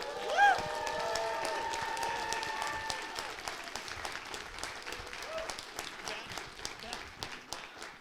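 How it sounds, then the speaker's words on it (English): Convention panel crowd at the Cincinnati Comic Expo applauding for actor Lou Diamond Phillips, a steady wash of clapping through the hall with a few voices and whistles early on, gradually thinning. "I want you to give a big round of applause for Lou Diamond Phillips"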